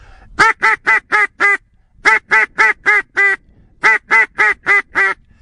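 Three bursts of five sharp, evenly spaced quacks from a mallard duck call, loud and close, with brief pauses between each series.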